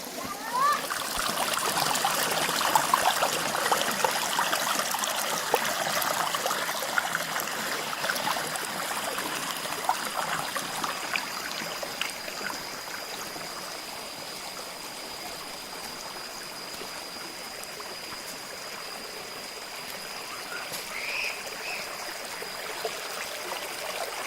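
Nam Tok Jarawad, a small waterfall, flows gently in a steady, continuous rush of water with splashing and trickling throughout. The sound stays fairly close and even, with faint voices in the background.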